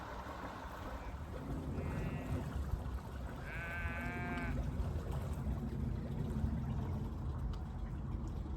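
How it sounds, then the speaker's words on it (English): Sheep bleat from a riverside spot beside a small private mooring near canal locks, a couple of calls standing out over steady low outdoor background noise, with no talking. "Just me and the sheep."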